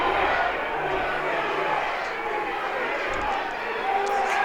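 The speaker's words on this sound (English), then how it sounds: "There's a pretty decent-sized crowd out here tonight cheering on the Lopes." A decent-sized stadium crowd cheering at a college lacrosse game at GCU Stadium, a broad, steady roar of many voices throughout, with an announcer talking over it.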